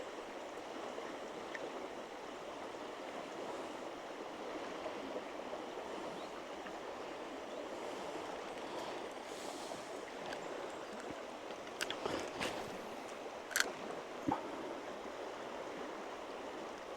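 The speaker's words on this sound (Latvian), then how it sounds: "Tā strauma diezgan spēcīga šobrīd ir un līmenis arī augšā." A river swollen by heavy rain rushes along at a strong current, a steady broadband roar of flowing water with a few faint clicks and splashes near the end.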